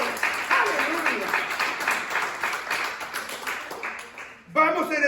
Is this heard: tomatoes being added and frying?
no